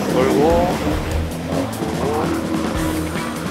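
Cars making U-turns on a busy, disorderly road roll by with a steady engine and tire rumble. Traffic noise fills the background while people talk over it.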